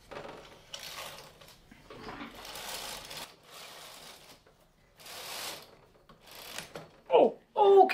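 Brother 910 standard gauge knitting machine, its carriage sliding back and forth in several rasping, whirring passes separated by pauses, close by, ending with a few sharper clacks.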